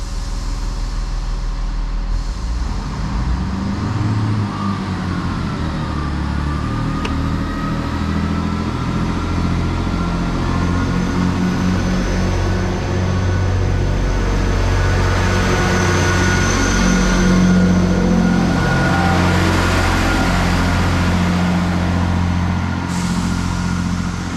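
A Class 158 diesel unit, 158850, pulls out of Woodlesford station bound for Leeds. Its engine drones loud and steady throughout, with a low rumble and a rising whine as it accelerates away nearby.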